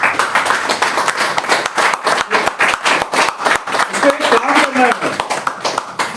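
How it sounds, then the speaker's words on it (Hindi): A seated audience at a business training session breaks into rhythmic clapping, the claps landing close and evenly throughout, with a few voices murmuring underneath near the end. "एक ताली होनी चाहिए।"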